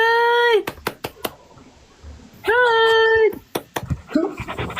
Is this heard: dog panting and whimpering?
yes